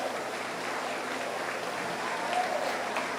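An audience at a 4-H meat goat show applauding the champion, steady moderate clapping from a crowd that holds even throughout and swells slightly near the end.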